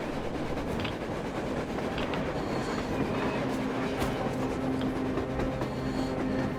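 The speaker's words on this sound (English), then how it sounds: "A train! A damn train on the surface!" A train rolls by on the surface in the video game Metro Exodus, a steady, continuous rumble with rhythmic wheel clatter and occasional metallic squeals, heard with no talking.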